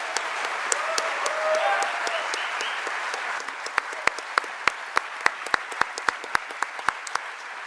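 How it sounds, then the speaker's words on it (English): An audience applauds the panelists and moderator after a foreign-policy debate hosted with the VMI Center for Leadership and Ethics. A broad wash of clapping thins out to a few scattered, crisp claps near the end. "One more round of applause, please."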